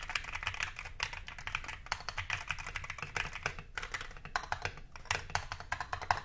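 Typing on a Mode 80 First Edition mechanical keyboard, a fast, close stream of crisp key clacks in bursts with brief pauses, heard alone.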